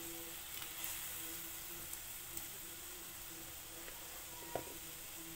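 Boiled gooseberries added to a simmering Kerala gooseberry pickle mixture, giving a faint, steady sizzle and bubbling hiss with a few soft clinks, heard alone.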